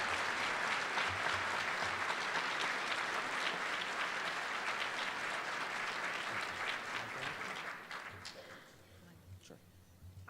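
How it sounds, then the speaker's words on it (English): Dense, loud applause from a breakfast audience at an academic awards keynote, with many hands clapping steadily for about eight seconds before thinning out into scattered, fading claps. "we all owe you a round of applause for all of your work"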